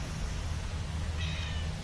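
A stray cat gives a soft, drawn-out meow that rises near the end of a short stretch, faint and close against a low background hum.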